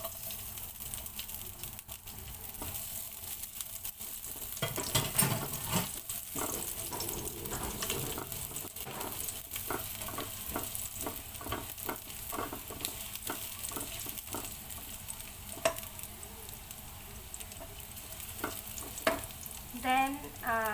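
Chopped garlic stir-frying in hot oil for a string bean and pork stir fry, a quiet, steady sizzle broken by scattered clicks and spatula scrapes, with a burst of louder frying partway through.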